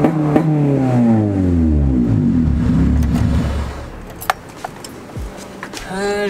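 A car engine with a Ktuned throttle body and TPS issues revs hard at full throttle, rising and falling in close, loud sweeps, then drops to idle and cuts off, followed by clicks and a brief voice.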